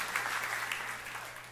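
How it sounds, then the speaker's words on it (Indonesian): A church congregation claps together in sustained, steady applause, moderately distant and fairly quiet, with no talking over it. "Tepuk tangan yang meriah untuk kemuliaan Tuhan."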